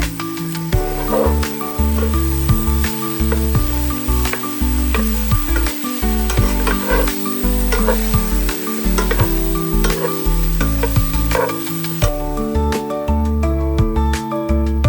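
Lamb souvlaki stir-frying in a pan makes a loud, close sizzle with repeated scraping stirs, while steady background music plays underneath.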